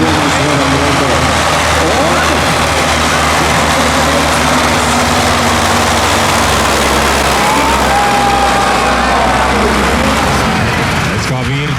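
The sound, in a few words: MTZ tractor engines idling before drag race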